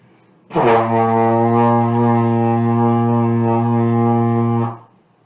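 A single steady, brassy trombone note held for about four seconds, loud and close, with a clean attack and release.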